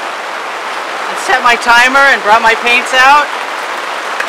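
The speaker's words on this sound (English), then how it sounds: "that really loud noise you hear is the rain" Heavy rain falls outdoors in Florida as a steady, dense wash of noise filling the whole clip, with a person talking over it through the middle.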